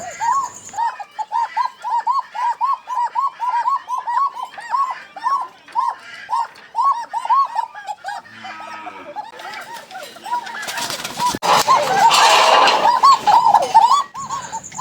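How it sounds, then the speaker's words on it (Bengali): Bashiraj Koka pigeons coo in a fast, regular run of rolling calls, close and loud, then a burst of rustling and flapping-like noise near the end while the cooing carries on. "বাসিরাজ কোকা কবুতর খুব সুন্দর ডাকে"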